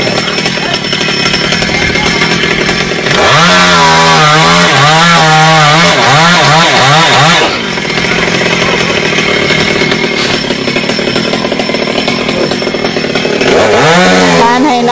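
A chainsaw cuts through star apple tree branches high up in a tree, its engine roaring continuously and loud, with pitch swells as the blade bites into the wood.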